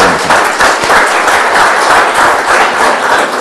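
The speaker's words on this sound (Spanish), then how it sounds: "solicito a los señores asistentes y colegas asistentes un aplauso para la exposición del ingeniero" Conference attendees applaud an engineer's talk on industrial electricity billing, a loud, dense burst of clapping from a full room that continues without pause for several seconds.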